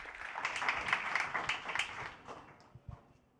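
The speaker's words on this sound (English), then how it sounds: "A warm applause." An audience at a film-project pitching event applauds a presenter coming on stage, a dense burst of clapping that swells, then thins out into a few scattered claps and fades away.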